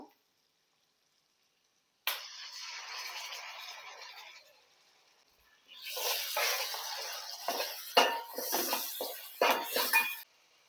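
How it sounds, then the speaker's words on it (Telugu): Potato pieces, about half a kilo cut into chunks, tipped into a pan with fried onion, ginger-garlic and tomato, making rattling, clinking drops and scrapes against metal in bursts after a quieter stretch of hiss. "కొన్ని బంగాళదుంపలు వేసుకుంటున్నానండి ఒక అర కేజీ దుంపలు తీసుకొని ఇలా ముక్కలు కట్ చేసుకొని వేసుకుంటున్నాను"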